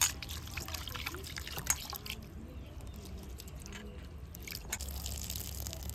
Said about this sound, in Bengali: 3 বার ভালো করে জল দিয়ে পরিষ্কার করে নেব।